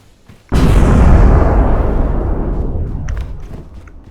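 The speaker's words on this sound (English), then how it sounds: "The explosion triggered the second one" A loud explosion in the climbing video game PEAK, a sudden heavy blast that erupts sharply and then rumbles and fades over several seconds, with no talk over it.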